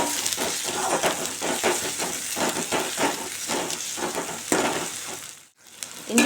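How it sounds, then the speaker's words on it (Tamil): Onions and ginger garlic paste sautéing in a pan, a close, loud hissing sizzle broken by repeated stirring scrapes, with a brief drop near the end before the sizzle returns; no voices. "இஞ்சி பூண்டு பேஸ்ட் போட்டு நல்லா வதக்கிட்டு"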